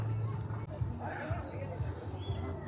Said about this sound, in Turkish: Abisi ata binecek şimdi.